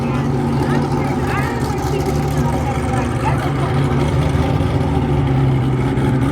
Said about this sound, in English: I love the sound of it. It sounds like a cam V8.